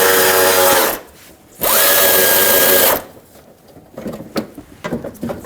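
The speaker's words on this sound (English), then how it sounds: "let's remove another 10mm bolt right over there" A power tool spins out a 10mm bolt on a 2007-2014 Chevrolet Silverado 2500 HD in two loud, close whirring bursts separated by a pause, followed by quieter clicks and handling noises.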